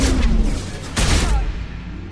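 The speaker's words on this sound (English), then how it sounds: "especially when followed up with a point-blank blast from a spec'd-out shotgun" Booming gunfire from a modified shotgun fired at point-blank range in the 2010 shooter Mass Effect 2, with two loud blasts roughly a second apart over a busy game soundscape.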